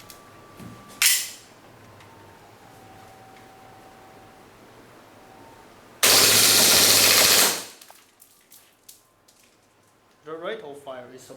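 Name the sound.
WE G18c airsoft gas pistol firing full-auto, steel slide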